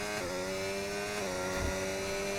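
Mercedes Formula 1 car engine in a racing video game revving at a steady high pitch, a dense whine of harmonics that shifts slightly as the revs change, loud and continuous.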